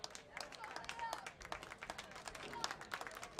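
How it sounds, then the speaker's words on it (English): A crowd applauds at a high school track meet as the last racers finish, a faint, scattered round of clapping heard under talk. "a couple of racers still finishing off here, getting a nice round of applause from the good crowd on hand"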